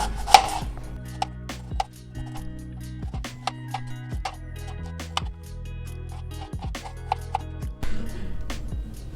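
A knife chops carrot into pieces on a board, a steady run of sharp close taps with short pauses, over a low steady hum.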